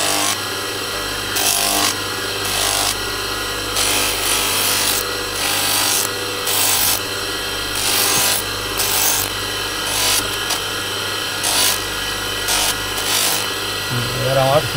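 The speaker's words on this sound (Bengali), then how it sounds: "সিরিজ দিয়ে জাস্ট একটা হালকা মসৃণ ভাব করা হলো" Sandpaper rubs back and forth across a buffalo horn comb in a traditional village workshop, a close, repeated scratchy stroking in bursts over a steady background hum.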